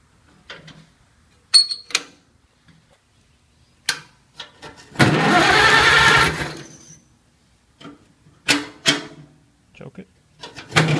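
A Farmall Cub tractor engine with a freshly refitted carburetor cranks and catches in a loud, dense burst lasting about two seconds, set between scattered clanks and short spoken remarks.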